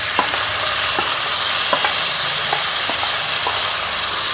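Chopped onions hit hot oil in a pan, giving a loud, steady broadband sizzle with scattered faint stirring clicks, continuous throughout with no talking.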